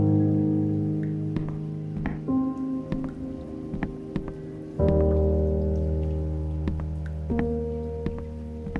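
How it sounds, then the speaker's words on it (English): Steady rain patters down in the video game The Uncertain: Last Quiet Day, a continuous wash of drops heard under sustained harmonic music tones throughout. "The rain will not stop."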